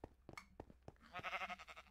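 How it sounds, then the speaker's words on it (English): Sheep bleating in the video game Minecraft, several short bleats following a few soft clicks, the last one longer and wavering, fairly quiet with no talk over it. "There's sheep out here."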